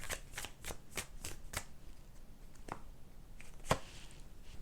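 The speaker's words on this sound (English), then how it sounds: "Let me see if I can get one more card on that." A deck of tarot cards being shuffled, giving a quick run of riffled flicks followed by a few scattered card snaps, close and quiet with no voices.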